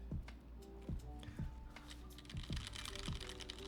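Fast typing on a Noxary 378 mechanical keyboard during a typing test, with a steady run of close, crisp keystrokes and a few heavier thocks from the spacebar or larger keys.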